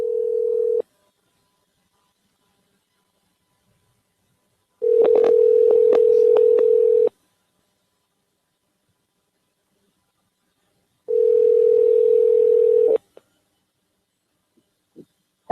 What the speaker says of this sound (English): We'll see what happens with this phone call.